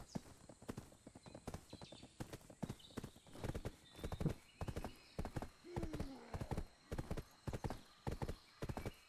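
Horse hooves clip-clopping in the Black Desert online video game, a rapid steady trot of sharp hoof strikes close by, with a brief whinny partway through and game ambience behind.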